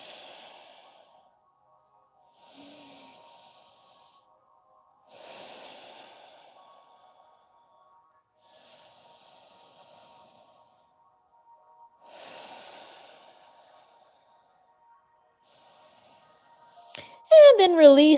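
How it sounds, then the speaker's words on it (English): Slow nasal breathing during a yoga session, several soft hissing breaths spaced a few seconds apart, close and quiet, with an instructor's voice heard between them. "breathing through your nose."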